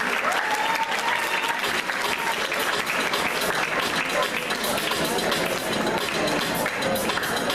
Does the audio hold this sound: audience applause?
yes